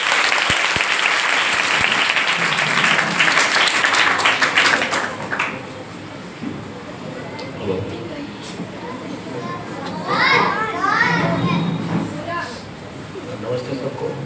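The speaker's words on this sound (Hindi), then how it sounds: "जोरदार ताली से स्वागत करते हैं।" Children clap loudly together at a self-defence training event for girls. The burst of applause lasts about five seconds and then fades into murmuring voices and talking.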